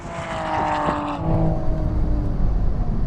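Toyota Supra and BMW M4 racing side by side in a drag race, a loud engine roar building with a rising tonal whine, then a steady broadband rush as the cars blast past; no talking.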